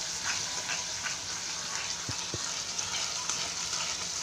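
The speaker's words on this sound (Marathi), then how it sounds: "नंतर कांदा फ्राय करून घ्या, भरपूर कढीपत्ता टाकून घ्या आणि मस्त गोल्डन होईपर्यंत फ्राय करा।" Onion and curry leaves fry in oil in a wok while misal is being made. The sizzle is soft and continuous with occasional faint crackles, and no one speaks.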